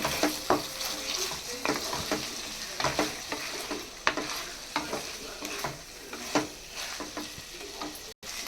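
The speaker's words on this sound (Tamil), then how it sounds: "தோசை ஊற்றிருக்கேன் தோசை சரி வந்துருக்கு" Dosa batter sizzles on a hot pan for a dinner of dosa with chicken gravy, a steady close frying hiss with repeated scraping stirs and light clinks, no talking.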